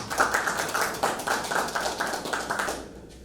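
An audience at a legal colloquium on health in Lima claps for a speaker. The applause is steady and fairly close, holds for about three seconds and then fades out quickly.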